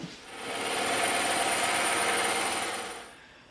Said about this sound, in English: we're going to have to go to the bandsaw and we're going to have to cut this off